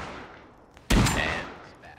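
A single loud, close SPAS shotgun blast fires in the video game Rust, a sharp boom with a short decaying tail after a quieter stretch of background noise.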